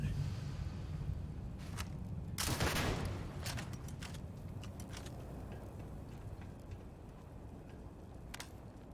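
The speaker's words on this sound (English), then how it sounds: "It's like a lever action grenade launcher." Lever action grenade launcher fired in the Starfield video game, heard as one heavy burst near the start followed by scattered sharp cracks and clicks over steady background noise.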